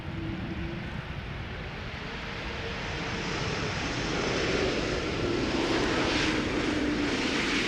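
An Embraer E2 jet airliner landing, its steady broadband engine roar loud and continuous, swelling slightly louder toward the end as the aircraft passes close, in humid weather at Amsterdam Schiphol Airport.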